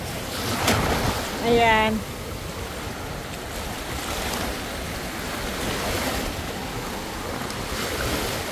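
Strong, rough ocean waves wash steadily on a shore while wind buffets the microphone, and a voice speaks briefly near the start.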